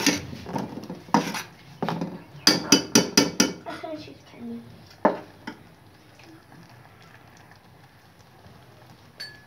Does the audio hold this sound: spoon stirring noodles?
yes